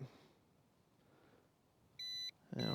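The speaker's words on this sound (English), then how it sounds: "it's gonna beep until it connects with the drone" A Ruko F11PRO 2 drone controller, cold and in a truck, gives a short steady electronic beep while pairing with the drone, followed by a louder burst of noise at the end.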